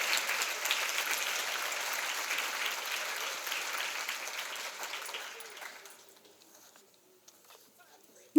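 An audience at a women's business breakfast gives a steady round of applause that carries for several seconds, then fades out into near silence with a few scattered sounds.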